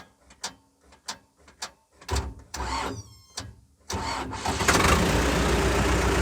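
An engine starting: a run of short separate clicks and cranking bursts, a few labored turns, then it fires and settles into a loud, continuous running rumble close by.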